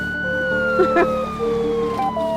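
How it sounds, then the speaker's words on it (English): A wailing siren rises and falls in pitch, steady and continuous, heard from some distance over low traffic rumble. "Oh, I can hear sirens."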